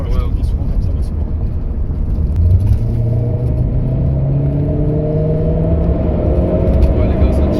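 A Renault Clio 4 RS Trophy with a 250 hp Stage 1 tune accelerating hard, its engine note rising steadily through the revs as a loud, close interior drone with a deep rumble underneath.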